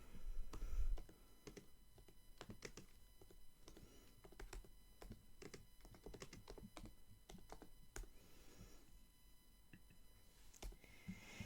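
A computer keyboard clicks steadily through a long run of typing, close but fairly quiet, with soft irregular keystrokes and short pauses, no speech over it.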